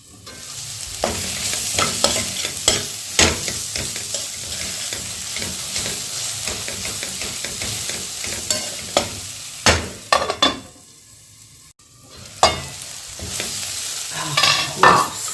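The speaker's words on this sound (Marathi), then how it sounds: "आता टोमॅटो शिजवून घेऊया एक दोनच मिनिट झाकून ठेवूया" Tomatoes cooking in a pan on a low gas flame while making a mixed-vegetable bhaji, with a steady sizzle and frying crackle under repeated scrapes and stirs, and one brief quiet gap partway through.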